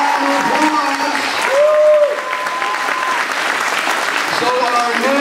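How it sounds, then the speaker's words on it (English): Crowd applause breaks out for a junior two-person team's world record of 100 boards broken with stomps, steady clapping running throughout while voices and cheers rise over it. "This is a round of applause."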